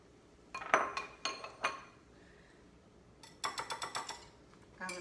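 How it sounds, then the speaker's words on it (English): Red and green peppers and ginger tipped into a pan for sweet and sour pork, giving sharp clatters and clinks of vegetables and utensil against metal in two bursts, with quiet gaps between. "Put my red and green peppers in here."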